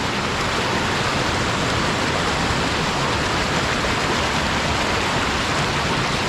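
Water rushing steadily and freely through a cleared channel, a constant close broadband wash with no breaks.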